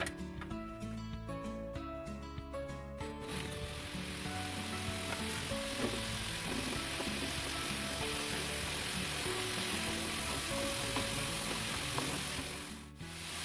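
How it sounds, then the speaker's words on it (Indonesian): Potatoes frying a second time in already hot oil, a dense, steady crackling sizzle that runs continuously at close range after a brief clattering start, with no talking. "Sekarang saya akan goreng yang kedua kalinya dan minyak saya sudah panas."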